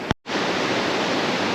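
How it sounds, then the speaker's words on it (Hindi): Rushing water of a rocky mountain stream in Gilgit-Baltistan roars steadily and loud, a dense continuous wash after a brief dropout at the start, with no voices. "यहाँ तो ज़्यादा ही ठंडक है क्योंकि पानी भी बह रहा है ना साथ साथ"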